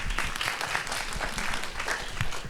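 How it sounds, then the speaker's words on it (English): Audience applause at a recovery conference in Pasadena, a crowd clapping steadily for a speaker, somewhat distant and moderately soft, with a few louder bursts. "Give her a nice applause."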